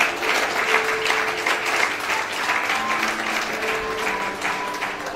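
A church congregation at a Mother's Day evangelical service applauds together in a steady, dense wash of clapping that stays loud and even throughout, with faint voices mixed in.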